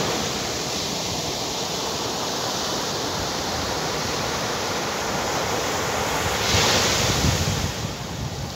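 Sea waves wash onto a beach in Phuket, a loud continuous roar of surf mixed with wind buffeting the microphone, swelling slightly near the end with no voices.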